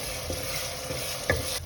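A paste of green chili, mint and coriander leaves sizzles steadily in a pan while a spoon scrapes and stirs it in a few distinct strokes, close by with no talking.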